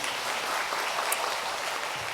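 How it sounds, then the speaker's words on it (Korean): A church congregation claps in encouragement during a Sunday service, an even, continuous wash of many hands applauding at moderate volume from start to finish. "우리 성도님들께 인사할 때 잘 다녀오라고 격려의 박수 보내주시면 좋겠습니다."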